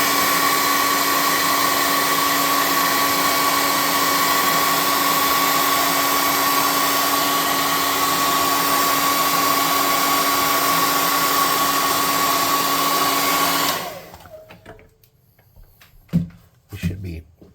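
A hair dryer blows on a painted tabletop miniature, a loud steady whooshing drone with a faint whine that runs for about fourteen seconds, then cuts off into quiet handling noises.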